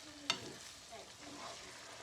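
Cooked ground meat for lasagna being stirred in a pan, with one sharp utensil knock near the start, then faint scraping and a low sizzle. Quiet and close, with no talking.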